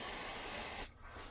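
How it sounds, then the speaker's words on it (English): Lubricating oil sprayed from an aerosol can onto a bearing during restoration of a 1964 Lambretta Li125 scooter, one steady close hiss lasting under a second and then cut off, with quiet room sound after. "I'm going to spray some lubricating oil"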